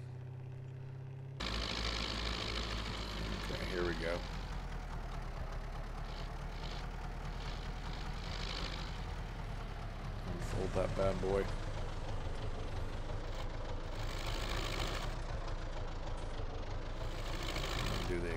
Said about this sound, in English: So I need to go grab that weeder and another tractor.